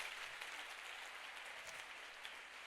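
A church congregation applauds during a sermon, steady, dense clapping filling the room at moderate distance for a few seconds with no break.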